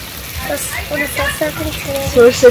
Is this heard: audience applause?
no